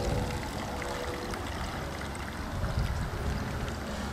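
Muddy water splashes and trickles as it is poured out for a Sawyer water filter mud test, a soft, continuous, close-up burbling with no voices.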